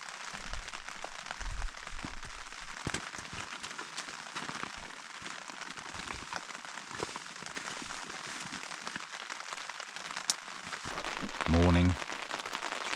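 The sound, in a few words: rain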